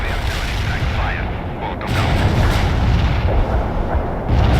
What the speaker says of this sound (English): Heavy barrage annihilated the enemy at the coordinates.